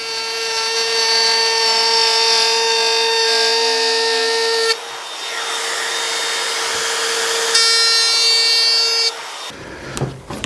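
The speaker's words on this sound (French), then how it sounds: "Un petit ponçage." Wood is sanded for a small cookbook stand with a power tool, giving a loud, steady high whine and abrasive hiss close up, with brief shifts in tone, and the tool stopping near the end.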